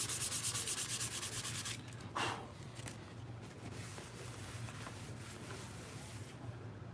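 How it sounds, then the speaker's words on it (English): Sandpaper rubs across a Mandalorian helmet in quick, rhythmic back-and-forth strokes at close range, giving way to a softer, steadier scraping hiss after a brief louder pass; no talk. "Let me get this sanded down here"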